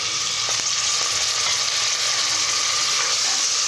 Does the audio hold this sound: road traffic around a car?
no